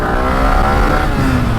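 A Yamaha R15 V4 motorcycle pulling hard in second gear, its engine a loud, close, steady high-pitched drone that climbs slightly in pitch as it accelerates, with no talking.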